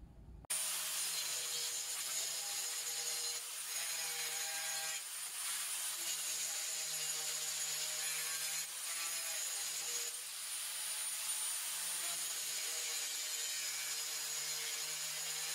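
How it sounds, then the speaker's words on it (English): A power tool grinds protrusions off the bottom of a DIY phone and GoPro rail mount for a 2021-2022 Ford Bronco. It makes a loud, continuous, steady whine with ringing tonal layers that runs almost unbroken with no voices. "So I'm actually going to grind off these protrusions on the bottom."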